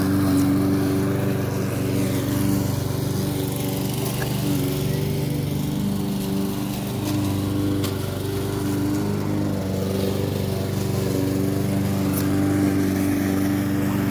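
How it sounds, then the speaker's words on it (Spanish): A lawn mower engine drones steadily and close while cutting grass in the United States, a constant loud hum with no breaks throughout. "Estoy cortando el pasto,"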